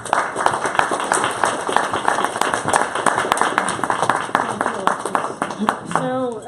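Audience applause at the end of a lunch talk: steady, dense clapping from a roomful of people, moderately close, tapering off at the end as a voice begins.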